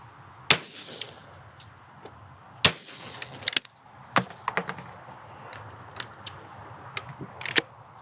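Sharp, separate shotgun blasts from a Browning Ultra XS Pro at a clay shoot, fired one at a time at uneven intervals, each a crisp crack with a short tail over quiet outdoor background.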